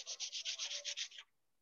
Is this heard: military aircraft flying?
no